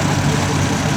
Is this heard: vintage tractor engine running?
yes